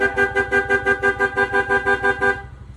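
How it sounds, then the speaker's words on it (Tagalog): A loud aftermarket horn fitted to a Honda Click 150 scooter sounds in a rapid pulsing series of about fourteen even beeps, close and alone, then stops. "meron na rin itong si sir na loud horn"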